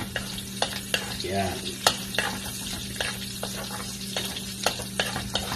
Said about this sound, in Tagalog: Kakichel, magigisa na tayo. Lalagay na natin itong bawang natin.